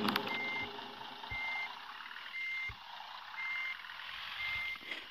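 Regular reversing beeps of an old bus in Bus Simulator Ultimate sound about once a second over the low idle of a large engine, with an occasional hiss of air.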